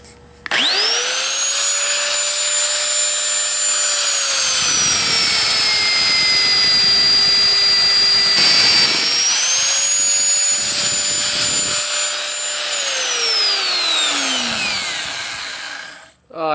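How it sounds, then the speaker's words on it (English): A magnetic drill bores holes in steel plate for an industrial towing bumper, a loud steady whine that spins up, sags briefly under load mid-cut, then recovers and winds down, close and continuous with no talking. "And then I mag drilled some holes in them."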